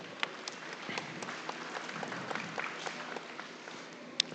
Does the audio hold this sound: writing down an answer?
no